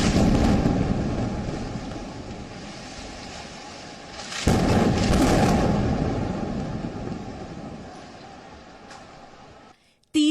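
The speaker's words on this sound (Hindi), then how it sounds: "दूसरा धमाका।" A second air strike hits a Gaza building: a heavy, low rumble already rolling is jolted midway by a fresh blast that swells loud, then sinks back into a fading roar before stopping suddenly.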